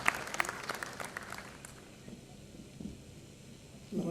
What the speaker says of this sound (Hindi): बहुत ही शानदार तालियों के साथ।